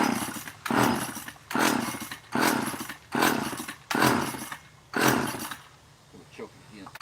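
A McCulloch Power Mac 6 chainsaw, used for tree trimming, is yanked by its pull cord five times in a steady rhythm, each pull a loud close rasping burst, before it sputters briefly at the end.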